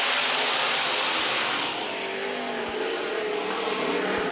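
Race cars roar together as the field accelerates at the green flag of a 2011 season-opening heat race at Minneapolis Raceway, a loud, dense, continuous engine wash with no voices over it.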